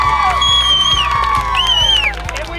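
Children at a pool-side photo challenge shout, whoop and cheer loudly in a close, excited crowd, with high voices sliding up and down over a thumping rhythm and scattered clapping.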